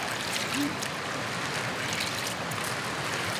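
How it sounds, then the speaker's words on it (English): Dry pinto beans rinsed under a running tap make a steady, fairly quiet rush and patter of water that continues without a break. "just rinse them off"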